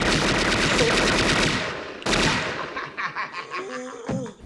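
Rapid machine-gun bursts from a movie scene, loud and close, a dense volley for two seconds, a brief pause, another burst, then trailing off into scattered shots and a rising cry or laugh.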